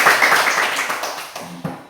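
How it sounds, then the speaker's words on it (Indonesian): Schoolchildren in an Indonesian classroom clap their hands briefly, a short burst of scattered claps close by that quickly dies down into a few stray taps. "Ya bagus, tepuk tangan."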